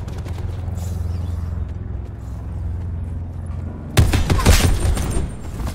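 VKM 750 light machine gun fire in Call of Duty: Black Ops 4, starting abruptly after a low rumbling hum and continuing as a loud, dense burst of rapid shots until the end.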